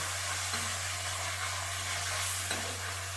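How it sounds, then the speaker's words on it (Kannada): Tomato bele bath mixture frying in a pan while being stirred, with a steady sizzle and soft scraping strokes over a constant low electrical hum, no voices. "ಈ ಥರ ಚೆನ್ನಾಗಿ ಚೆನ್ನಾಗಿ ಮಿಕ್ಸ್ ಮಾಡ್ಕೊತ ಮಾಡ್ಕೊತ ಚೆನ್ನಾಗಿ ಹುರಿರಿ ಇದನ್ನು ಈ ಥರ"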